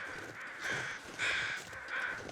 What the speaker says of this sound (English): you can hear all the carrion crows because there are bodies everywhere